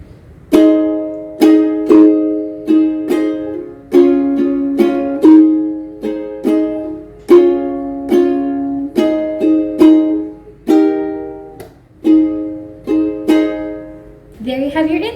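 Strummed chords on an acoustic guitar playing the intro of a song: about a dozen bright, ringing chord strokes in a steady rhythm, each decaying before the next, played up close with no voices.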